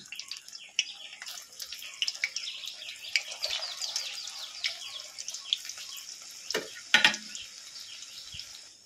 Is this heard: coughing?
no